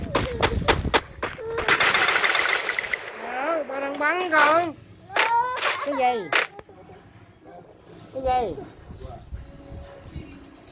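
Rapid bursts of gunfire from the mobile shooter game Free Fire, including a Famas rifle, crackle loudly in quick rattling volleys, with a voice and an adult chattering over and between the shots.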